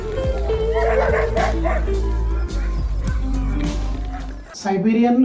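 Siberian husky dogs on a snowy farm near Murmansk, Russia, yip and whimper in short, close, repeated cries over steady background noise and voices, with a brief quiet gap before the calls resume.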